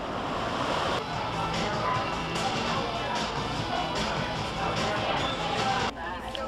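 Waves wash onto a beach in Maine as a broad continuous roar, close and steady with slight surges, mixed with some wind noise on the microphone.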